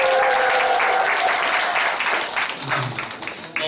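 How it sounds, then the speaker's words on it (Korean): Loud applause from a church gathering of teachers in Busan fills the hall, steady broadband clapping that thins slightly toward the end. "수준 있는 교회에 가면요 박수를 크게 쳐주세요."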